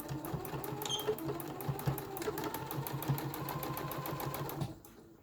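A sewing machine sews across a fabric face mask with a brisk, even stitching chatter at moderate volume, running steadily before cutting off near the end, with no talking.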